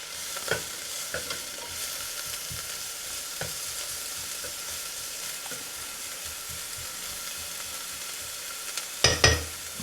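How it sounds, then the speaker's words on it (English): Food sizzles and fries steadily in a pan, a constant crackling hiss, with a few utensil clacks and a louder scrape near the end. "it's frying nicely now"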